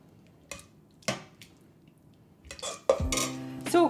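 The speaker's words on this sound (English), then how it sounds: "And stir it up." A spoon stirs chicken soup in a bowl, giving a few sharp clinks and knocks against the dish, then a cluster of louder ringing taps near the end, with quiet gaps between.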